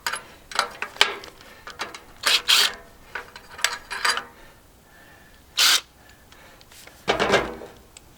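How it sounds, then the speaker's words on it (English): A 10mm ratchet wrench clicks in short irregular bursts while turning a bolt on an old table saw being scrapped, with quiet pauses between the close, sharp runs of ratcheting. "let me see if I can find a 10mm wrench"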